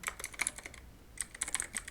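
Quick bursts of clicking keystrokes on a computer keyboard, close and clear, come in two clusters separated by a short pause, with no voices.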